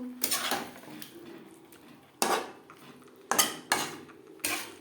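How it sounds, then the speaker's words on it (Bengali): Fried cauliflower being stirred into cooked spices in a pan for a Bengali cauliflower roast, a handful of sharp spoon-on-pan scrapes and clinks spaced irregularly over a quiet background. "মশলার সাথে ফুলকপি বেশ ভালো করে মিক্সড করে দেবো"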